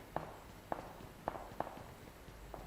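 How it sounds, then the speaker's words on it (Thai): An approaching enemy's footsteps in PUBG Mobile tread in a steady, evenly spaced rhythm of soft thuds, faint and at a distance over a low background hum. "เสียงเท้ามันมาแล้ว"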